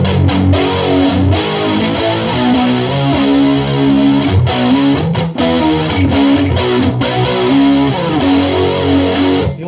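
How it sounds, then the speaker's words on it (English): Electric guitar run through a Keeley Super Bass pedal voiced like a vintage Marshall Super Bass amp, with chorus from a Roland Jazz Chorus JC-40 amp, playing loud, continuous distorted chords and riffs, close and without talk. "I have a Keeley Super Bass over here, which is supposed to basically give you the sound of a vintage Marshall Super Bass amp"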